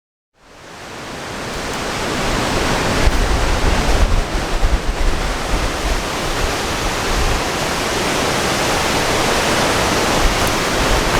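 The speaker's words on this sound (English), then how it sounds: "So this is the first waterfall." A waterfall on the River Doe along the Ingleton Waterfall Trail, a loud continuous broadband roar of falling water that swells in within the first half second and then holds steady and close, with no voices.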